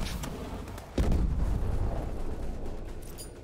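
Grenade explosion in Call of Duty: Advanced Warfare, a single heavy boom about a second in with a long rumbling low tail, over a busy wash of background battle noise.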